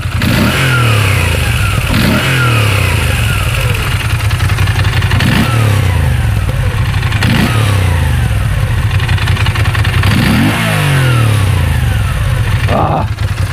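A nearby 2016 Moto Guzzi V9 Bobber motorcycle engine is revved again and again, each throttle burst rising in pitch and falling back to a loud, throbbing idle.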